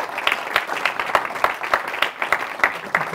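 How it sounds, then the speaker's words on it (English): A conference audience claps at a development co-operation and forests event, the individual hand claps sharp and distinct, coming in an uneven scattered rhythm with no voices on top. "let me ask you to applaud Eric Solheim for what he has already brought us"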